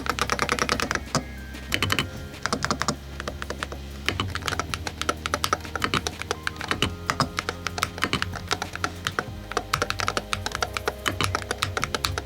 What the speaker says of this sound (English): what you really want to know is what this keyboard actually sounds like.